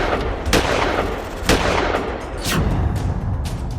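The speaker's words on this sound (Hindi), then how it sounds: "शहनाई बजने से पहले गोलियां चल गईं।" Gunfire sound effect: three or four heavy, booming shots at roughly one-second intervals, each a sharp loud blast with a rumbling tail, set against a dense continuous low background.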